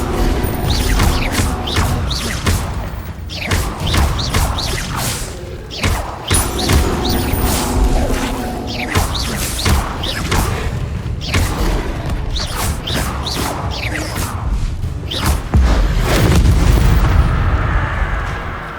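Spell blasts from the Confringo and Bombarda spells in the video game Hogwarts Legacy boom and thud one after another in a dense, loud barrage of explosions and crashing impacts.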